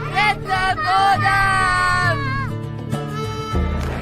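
Enthusiastic crowd at the Save Soil main event, a swell of cheering and whooping voices with sustained musical tones, loud and close, easing slightly toward the end.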